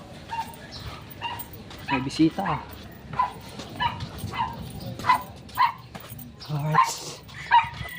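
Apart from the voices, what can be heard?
dog barking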